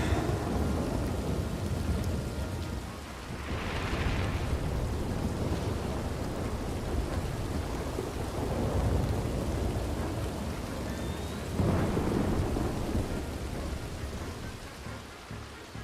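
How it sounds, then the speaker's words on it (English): Steady rain falls in a Wild West roleplay video game, with several deep rumbles of thunder rolling in and fading over about sixteen seconds, and no talk. "Hanging out in the rain."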